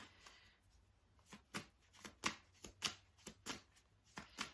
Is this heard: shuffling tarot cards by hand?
yes